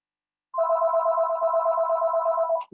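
A telephone rings with a steady electronic warble, one sustained burst of about two seconds, fairly clear against a quiet room.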